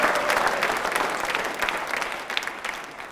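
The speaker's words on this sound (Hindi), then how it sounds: "तालियां जोरों से बजाइए इन सभी के सम्मान में" Audience at a quiz show for accounts officers applauds in honour of the guests, with steady dense clapping throughout and no voices on top.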